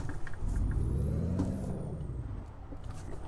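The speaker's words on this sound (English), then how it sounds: "Let's hear that Jake brake sound." A Jake brake on a Freightliner Cascadia truck in American Truck Simulator gives a loud, low, rumbling engine-brake roar. The pitch sweeps up, then drops away over a few seconds, continuous and alone.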